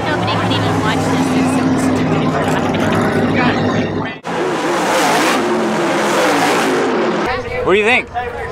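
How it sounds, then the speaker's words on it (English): Alcohol-burning race cars roar loudly at a raceway, a dense, continuous engine blare with a brief dip and surge. Voices are heard near the end. "watching some alcohol burning cars"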